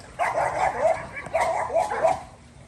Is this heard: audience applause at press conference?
no